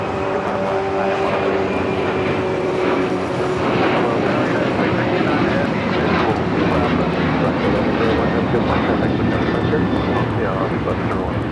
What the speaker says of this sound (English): This is Alaska Airlines 1101 taking off to Kahului on the 737-900ER.